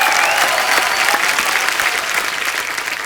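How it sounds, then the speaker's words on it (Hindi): Loud, dense applause from a TV comedy show studio audience, sustained evenly from start to finish without pause. "बरेली की बर्फी की टीम के लिए जोरदार तालियां"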